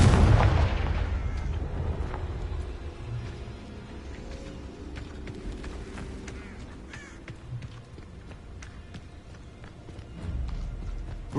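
A fiery Confringo spell blast in the Hogwarts Legacy video game: a loud explosive burst at the start decays into a low rumbling tail with scattered crackles, then a second sharp burst lands right at the end.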